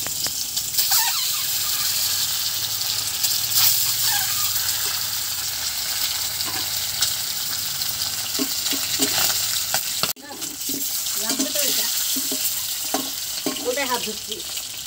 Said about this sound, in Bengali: এই যে এক এক করে সব ভেজে নিচ্ছি।